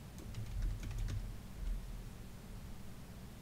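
Scattered keystrokes clatter on a computer keyboard while code is entered, close and soft, with a burst of taps early on, then thinning out into a few isolated clicks, and no one talking.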